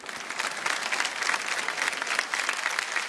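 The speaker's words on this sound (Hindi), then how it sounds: "भाई लेकिन देवो सर के लिए जोरदार तालियां।" An audience claps loudly and continuously at the grand finale of a folk reality show, a dense, sustained round of applause with no voices heard over it.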